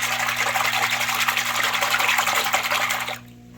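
A washing machine spins clothes in water washed with homemade soap, a steady close churning swish over a low motor hum that cuts off abruptly near the end.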